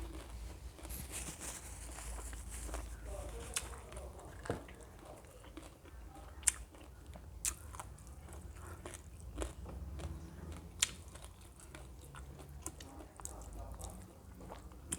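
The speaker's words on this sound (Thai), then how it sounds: "กินตำมะฮุ่งกินปลาแดกดิบ" Someone eating green papaya salad with raw fermented fish, faint close chewing and crisp bites in an irregular rhythm over a quiet background.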